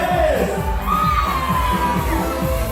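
Wedding guests cheer and shout in a loud, continuous crowd roar, with whoops and yells rising above a dense wash of voices throughout.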